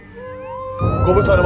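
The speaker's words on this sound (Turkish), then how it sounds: "Oğlum o siren sesleri ne?" Emergency sirens wail and rise in pitch, starting moderately and swelling louder as more noise joins, with a voice speaking over them.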